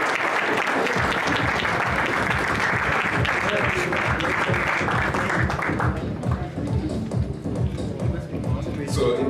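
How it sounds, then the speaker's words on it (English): Audience applause at a cricket club awards ceremony, a dense burst of many hands clapping that tapers off toward the end while a voice begins speaking underneath. "Please, another round of applause."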